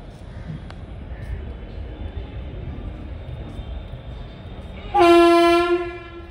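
An Indian Railways WAP4 electric locomotive shunting passenger coaches gives a loud horn blast near the end, over a rumbling background of rolling stock and yard noise.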